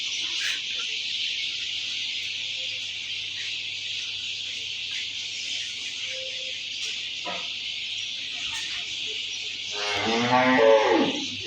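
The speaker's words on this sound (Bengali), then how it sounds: "এক একটা গরু হলেস্টেন ফিজিয়ান জাতের গরু গাভী" Holstein Friesian cows on a large cattle farm, with a steady hum of farm noise and one loud, close moo rising near the end.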